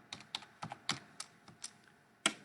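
Keys on a computer keyboard tapped in short irregular bursts, a handful of crisp close clicks spaced out over a couple of seconds in a quiet room.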